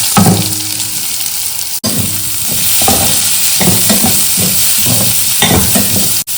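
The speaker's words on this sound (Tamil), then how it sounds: "இந்த பொடியாக கட் பண்ண வெங்காயத்தை போட்டுக்கலாம்" Finely chopped onions sizzle and fry steadily in a pan with cumin seeds, a loud, continuous close crackle broken by brief stirring scrapes and one short pause.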